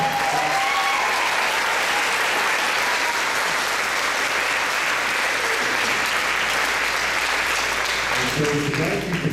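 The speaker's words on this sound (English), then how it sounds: "Give them another applause." Sustained dense applause from an audience after a performance of Flight, steady and loud throughout with a few faint voices underneath.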